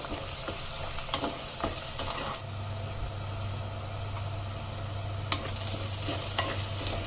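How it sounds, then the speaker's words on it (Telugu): Onions frying in a clay pot for a village-style chicken curry give a steady sizzle and occasional stirring scrapes, close and alone, with a low continuous hum underneath from about the middle onward. "ఆనియన్స్ బాగా ఫ్రై అయినాయి."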